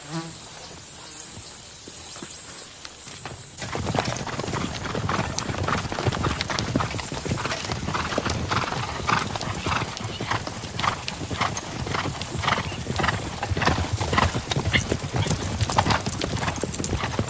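Horses ridden over ground, hooves clip-clopping in a steady, close rhythm that starts a few seconds in and continues throughout, with insects buzzing and an occasional whinny in an outdoor setting.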